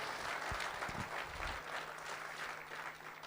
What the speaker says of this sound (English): So a big round of applause to all of you all.